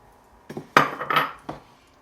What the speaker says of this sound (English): So I've been gently stirring, not too rough.